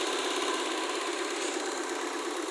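A 2002 Toyota Soluna engine runs steadily at idle, a continuous even mechanical hum with a faint rhythmic ticking, close and constant with no talking.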